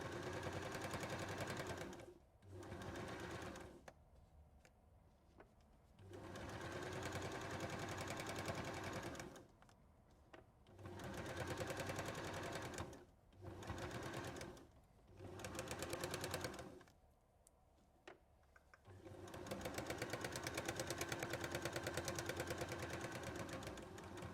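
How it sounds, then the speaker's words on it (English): A home sewing machine stitches around the top of a fabric bowl with a lining, running in several bursts of steady mechanical whirring separated by short pauses, loud and close. "You can sew all the way around the top of this"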